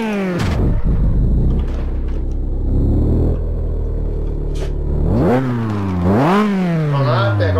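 A Radical SR8 RX race car engine in Assetto Corsa revs and roars with rising and falling pitch, accelerating in loud sweeps over a rumbling background, game-like and close.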